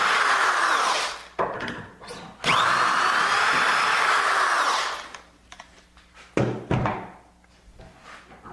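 A power drill whines steadily into wood, boring dowel holes in bed frame rails and legs in two long runs, separated and followed by knocks and clunks of handling.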